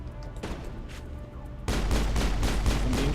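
Sustained gunfire from squadmates in Mass Effect during the Virmire mission, a low rumbling barrage that swells sharply louder halfway through and then keeps up as dense continuous shooting.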